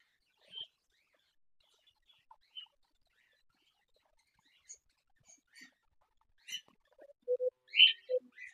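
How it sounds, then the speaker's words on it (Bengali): Pet cockatiels and budgies give a few short, faint chirps and tweets, scattered across long quiet gaps and clustering toward the end. "দুটো ককটেলই চলে এসছে।"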